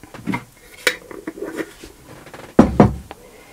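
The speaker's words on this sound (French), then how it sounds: "je mélange tous les ingrédients pour faire une pâte" Brioche dough ingredients being mixed in a bowl: scattered close clinks and scrapes of a utensil against the bowl, with a louder clatter near the end, no talking.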